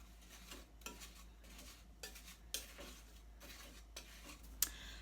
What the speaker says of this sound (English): combine with the sugar and the cornstarch and the cinnamon, and this is going to make the delicious insides of our apple turnovers. So give it a nice little mix